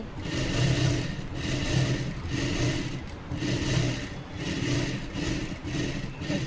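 A sewing machine stitching around a blouse neckline runs in a steady loud whirring drone, swelling and easing in a regular rhythm of bursts with brief pauses, close up and alone.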